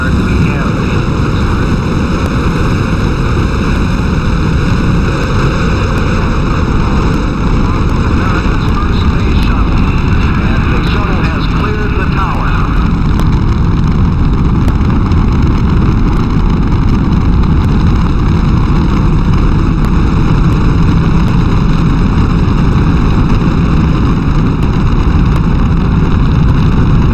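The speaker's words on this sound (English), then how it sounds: "We've gone for main engine start. We have main engine start." Space Shuttle main engines running during the STS-1 launch, heard as a loud, continuous roar with a steady hum and tonal whine that holds without a break.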